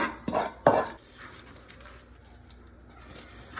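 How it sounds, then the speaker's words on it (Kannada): Gond ladoo mixture being stirred with ghee in a pan, with two sharp scraping clatters of a utensil against the pan near the start, then quieter faint stirring scrapes. "ಈ ಥರ ಎಲ್ಲನೂ ಕುಡ್ಕೊಳ್ಳೋ ಹಾಗೆ ಮಿಕ್ಸ್ ಮಾಡಬೇಕು."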